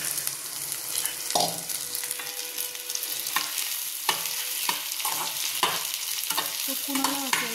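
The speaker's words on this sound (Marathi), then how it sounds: "कांदा भाजतोय माझा. सो आता मी भेंडी कापलेली भेंडी टाकून देते" Chopped okra frying with onion in a pan, a steady sizzle broken by repeated scraping stirs and clinks from a spatula, close and continuous with no talking.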